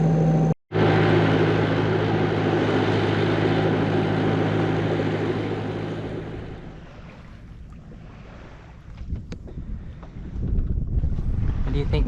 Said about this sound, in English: No more rumbly engine.